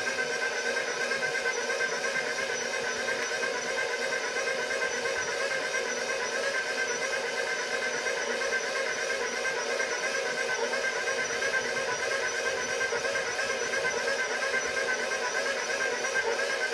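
A stand mixer kneads ciabatta bread dough in a bowl, giving off a steady, even whirring hum with a hissing texture that runs unbroken throughout, with no voices over it.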